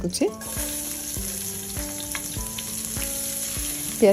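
Chopped onions frying in hot oil make a continuous close sizzle, with regular scraping and knocking strokes in an even rhythm and a short clatter at either end.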